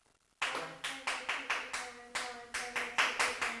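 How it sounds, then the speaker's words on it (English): A single volunteer claps a measure of rhythm in a music class, about a dozen sharp, close hand claps in an uneven pattern of quick and spaced beats, with a voice softly counting along underneath. "Can I have a volunteer to clap and count that,"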